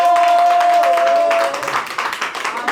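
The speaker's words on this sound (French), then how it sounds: "Ça s'applaudit quand même." Applause from a studio audience on an Ivory Coast television news programme, a dense, loud patter of clapping that thins toward the end, with a steady tone running under the first half.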